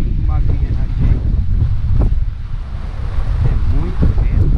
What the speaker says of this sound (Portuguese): É muito vento desde sempre aqui.